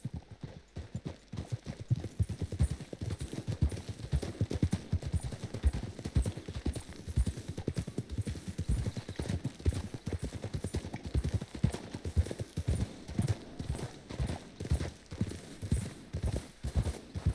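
Horse hooves clip-clop steadily in Red Dead Redemption 2, a continuous rhythmic trot of clear, close hoofbeats with no talking over them.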